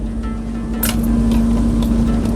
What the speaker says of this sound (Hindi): 4x4 लो में जा रही है गाड़ी